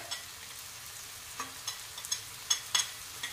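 Pav bhaji masala and chili powder get stirred into frying vegetables, a soft sizzle under a string of scraping spoon strokes against the pan, quick and irregular, with no talking.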